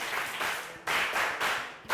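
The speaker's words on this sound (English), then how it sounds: "Can we clap for her?" A classroom of primary pupils claps for a classmate in a short burst of group clapping, pausing briefly and starting again twice, fairly close and steady.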